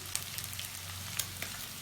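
Dried fish and garlic frying in a pan, a steady low crackle with a few sharper pops and spits near the start and middle, close and fairly quiet with no talking.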